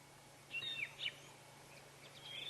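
Fork-tailed drongos calling while mobbing a Wahlberg's eagle: a few sharp, whistled chirps in two short bursts, fairly faint and distant over a low steady background hum, with no talking.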